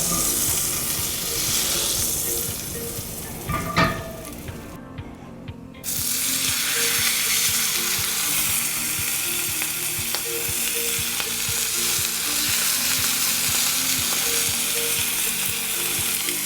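A steak sears in a frying pan with vegetable oil and butter, giving a steady, dense sizzle close up, briefly broken by a clatter and a short gap before the loud frying resumes.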